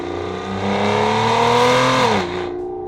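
A 2007 Aston Martin DB9 with its V12 engine revs hard, the pitch climbing into a loud, smooth howl before dropping sharply as the throttle is released.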